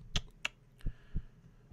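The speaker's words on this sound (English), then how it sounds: "I can still hear my heartbeat." In a horror video game, a faint heartbeat sounds as a pair of soft, low thumps, accompanied by a few sharp clicks in otherwise quiet surroundings.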